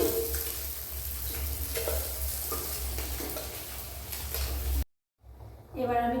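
Pond fish frying in hot mustard oil in a karahi for a fish curry, with a steady, close crackling sizzle that cuts out briefly near the end before the sizzle returns.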